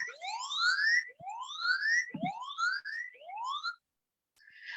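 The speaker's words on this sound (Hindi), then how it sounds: "आप देख सकते हैं यहाँ पे सायरन बज रहा है" A siren alarm from a phone app blares in repeated rising sweeps, four wailing whoops in a row, loud and close, continuing even though the phone is set to silent, then a short pause before it starts again.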